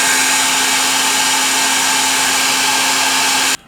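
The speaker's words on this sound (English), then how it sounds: "So I got the heat dryer. It's going to get noisy." Heat gun warming epoxy for a loose grip panel repair on a Tokarev TT pistol, a loud steady blowing whoosh with a constant hum that runs unbroken, then cuts off abruptly at the end.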